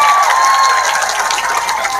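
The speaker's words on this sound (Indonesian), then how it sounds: "Tepuk tangan untuk regu B." Audience at an Islamic sermon gathering applauding a team, a steady dense patter of clapping lasting throughout, fairly loud and close, with a faint tone underneath.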